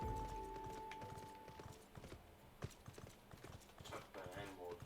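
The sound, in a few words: horse hooves clip-clop in Final Fantasy XIV video game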